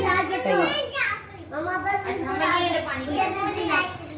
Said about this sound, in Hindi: बच्चों का शोर सुन रहे हैं आप, कितना शोर कर रहे हैं।